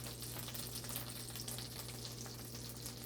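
Butter and oil heating in a pan for shrimp pasta give a steady, close sizzle and crackle that holds evenly throughout, with a low constant hum underneath and no talking.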